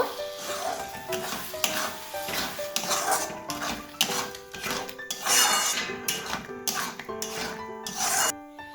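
A spoon scrapes and rubs through palak paneer in a pan, mixing in spinach paste with repeated close metallic scraping and clinking. Tonal music plays underneath.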